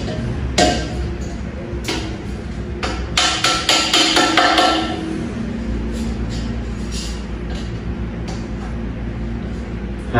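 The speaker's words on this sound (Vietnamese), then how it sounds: "thì mình sẽ lấy cái búa mình đóng này" A hammer taps rubber feet into the legs of a K-frame table, sharp close knocks that come in a quick burst of several strikes and then sparser single taps, with someone talking between them.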